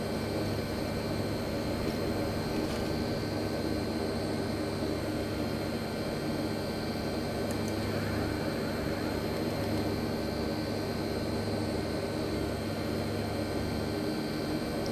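Hawker Siddeley HS 748 turboprop in a Prepar3D flight simulator taking off, a steady loud engine roar with a constant drone and whine that holds unchanged throughout, with no talk over it.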